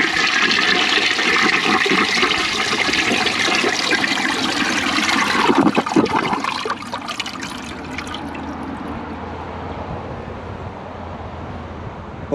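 Close-up flush of a 2003 Briggs Altima toilet: a loud, steady rush of water for about six seconds, then a softer refill trickle and gurgle that continues to the end, with no voices.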